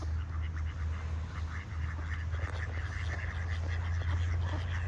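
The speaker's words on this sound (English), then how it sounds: "here come more ducks" Ducks swimming on water quack in a scattered, mid-distance chatter over a steady low outdoor rumble, with no talk.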